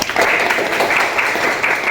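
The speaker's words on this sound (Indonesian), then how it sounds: "Tepuk tangan untuk kita semua" A crowd at an Indonesian high school assembly applauds, a dense wash of clapping hands that stays loud and steady throughout the short stretch.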